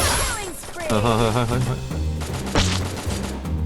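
M4 rifle gunfire in a shooting video game, rapid automatic bursts cracking loudly and close, mixed with game effects and a voice talking over them.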